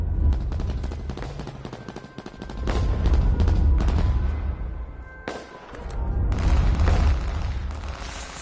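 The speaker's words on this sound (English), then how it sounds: "Shotgun, baby." Repeated shotgun blasts and loud gunfire crack through a busy H1Z1 firefight, with dense overlapping booms and brief lulls between bursts.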